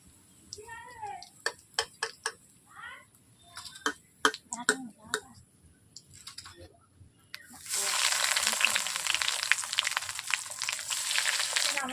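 Vegetable chops frying in hot oil over a low flame, a steady broad crackling sizzle rising after a stretch of clicks and handling noises, heard near and loud.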